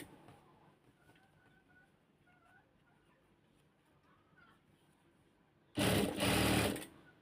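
Short, loud burst of a sewing machine stitching fabric piping for a garment neckline, about a second of fast whirring stitches near the end after quiet room noise with faint talk and distant birds.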